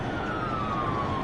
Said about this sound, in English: A state trooper turns on her lights and sirens.